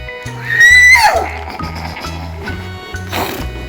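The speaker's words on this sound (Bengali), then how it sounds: "ঘোড়া কিভাবে ডাকে।" A horse gives one loud, high whinny that rises and then trails off, set over a looping, bouncy children's music backing with steady low beats.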